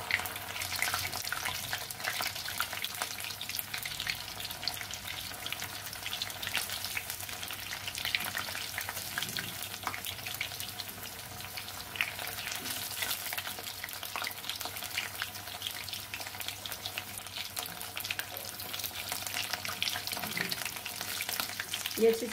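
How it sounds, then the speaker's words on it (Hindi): Potatoes frying in oil in a pan over a medium gas flame make a steady, close, crackling sizzle that carries on evenly throughout, with no talking. "गैस को मीडियम करके इसे फ्राई करें जिससे कि आलू जो है वो अच्छे से पक जाए।"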